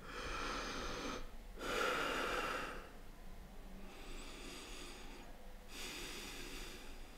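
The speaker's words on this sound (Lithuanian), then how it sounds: "Girdite ten tokį šniokštimą arba švilpimą" Human breath flows in and out in slow cycles, each exhale and inhale a soft whooshing rush of air with brief pauses between, close and quiet.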